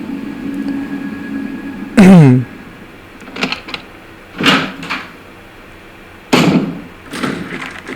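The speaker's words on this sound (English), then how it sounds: "we can hear a door being rattled" A door rattles and bangs in Resident Evil 1, with several loud, sharp knocks and thuds spaced irregularly against a quiet, humming game backdrop.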